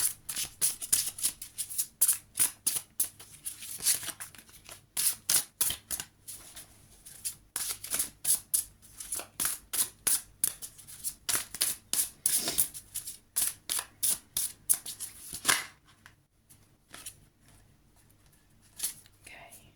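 A deck of tarot cards is shuffled by hand in a long run of quick, crisp riffles and flicks. The rhythm is close and steady, thins out toward the end and then falls quiet.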